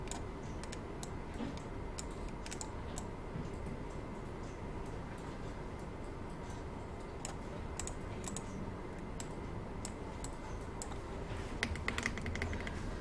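Rapid, steady clicking of computer keyboard keys, arrow keys tapped repeatedly while shapes are nudged into place in PowerPoint, close and fairly quiet, with no talking.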